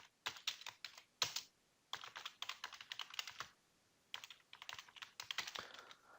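Rapid keystrokes on a computer keyboard while writing a CSS rule, coming in close, clattering bursts separated by short pauses, with no one talking.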